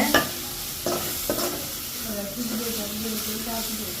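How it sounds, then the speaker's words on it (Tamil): Food sautéing in a pan in a home kitchen in Jaffna: a steady soft sizzle with a few scraping stirs near the start, while someone talks over the cooking. "பாருங்க வதக்குறாங்க"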